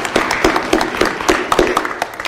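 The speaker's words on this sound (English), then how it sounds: "Let's welcome him with a round of applause" A church congregation applauding to welcome a pastor, many hands clapping in a fast irregular patter, loud and close, with a voice faintly under it.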